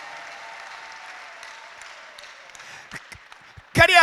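A church congregation at an ADEPR night service claps together in a steady, spread-out wash of applause that swells into a sharp, louder burst at the very end.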